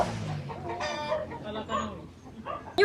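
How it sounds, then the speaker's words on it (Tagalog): Large chicken clucking up close at a family home before New Year's, a run of throaty clucks and squawks with some voices talking nearby. "Kinuha na yung tatay ko yung malaking manok."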